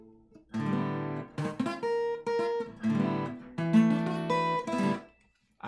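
A beginner's pentatonic scale on guitar, with uneven, poorly fretted notes that buzz and cut off unevenly, played in a halting rhythm close to the listener.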